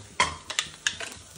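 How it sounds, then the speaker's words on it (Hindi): Vegetables being stirred in a pan give a handful of quick, faint scraping strokes over about a second and a half, each a short spatula-on-metal scrape with no voices. "सब्जियों को थोड़ा राड़ेंगे अच्छे से"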